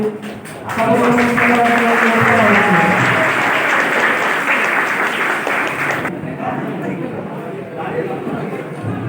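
Loud applause from a crowd at a college Teachers' Day event, steady clapping that fills the space for several seconds and then thins slightly, with a voice speaking over it at the start.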